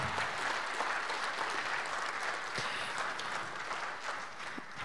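Dense, sustained audience applause for Wojtek at the close of a software testing conference session, a full room clapping evenly throughout.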